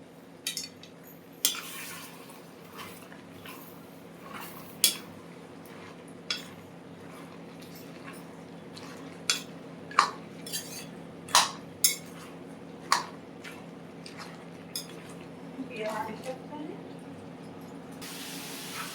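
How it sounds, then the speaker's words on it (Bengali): Spinach curry with fish roe, eggplant and bori being stirred in a pan, with repeated sharp clinks and scrapes of a spoon against metal over a soft background hiss. "এখন আমি ভালো করে নেড়ে দেব"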